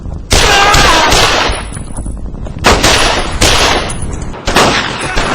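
Heavy bursts of World War II weapon fire crack in Brothers In Arms: Road to Hill 30, loud and close, in several long rattling volleys broken by short pauses.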